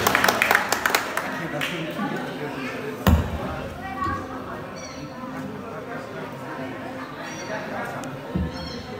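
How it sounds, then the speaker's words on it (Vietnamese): A few sharp claps from an audience at a Vietnamese Lunar New Year 2020 arts exchange show open the clip, then fade into a low murmur of room noise with occasional knocks. "Vỗ tay đi."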